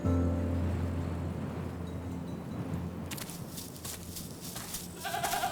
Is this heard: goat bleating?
yes